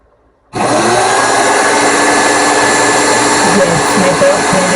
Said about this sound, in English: my belt sander is super loud